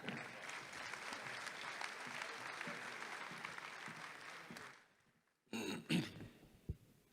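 Audience at a mushaira poetry gathering in Dubai applauds steadily as a poet is welcomed to the stage, then the clapping stops abruptly and a few scattered close knocks and handling sounds follow.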